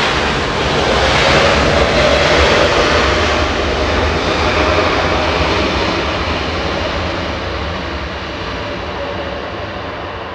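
A Swiss Boeing 777 jet roars loudly as it lands at Los Angeles International Airport, its engines a broad, steady rumble that swells early on and then slowly fades as the aircraft rolls away, with no talk.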